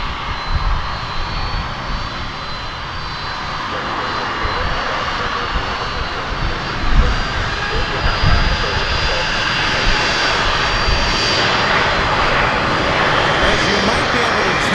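Loud, sustained roar of a heavy jet airliner taking off at DFW Airport, a broad steady wash of engine noise that swells slightly partway through, heard from fairly close.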